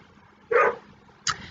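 A dog gives two short barks a little apart, the first fuller and the second sharper, moderately loud against a quiet background.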